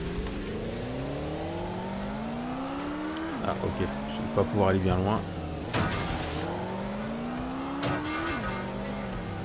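A motorcycle engine in the video game Watch Dogs Legion revs and shifts repeatedly, pitch climbing and dropping in waves with brief tire squeals, while someone talks over it.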